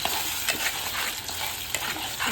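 Masala paste frying in hot oil for matar paneer, a steady close sizzle with scraping stir strokes from a spoon against the pan, alone without voices.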